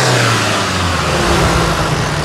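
A Chevrolet S10 pickup engine held at high revs, a loud, continuous mid-pitched roar with no pauses, heard close up.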